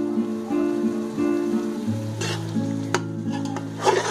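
Mutton frying in a small amount of oil for biryani, a steady soft sizzle with occasional stirring scrapes and clinks of a spoon against the pot, with a low hum running underneath.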